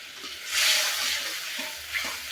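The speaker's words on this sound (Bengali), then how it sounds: "তো এটা কষানো হতে থাক মশলাটা" Spice paste, or masala, fries in hot oil for a rohu fish muri ghonto in a village kitchen, giving a steady soft sizzle with a stronger hissing swell as it is stirred, close and without talk.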